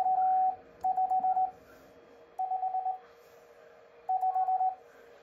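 Morse code keyed on a semi-automatic bug, heard as bursts of steady tone dits and dahs in short groups separated by pauses, fairly clean and moderately loud with no talking.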